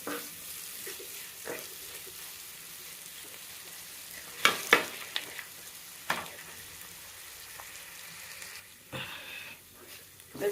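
Large onions sautéing in a pan with a soft, steady sizzle, broken by a few sharp clinks and scrapes of stirring; quiet overall and heard alone.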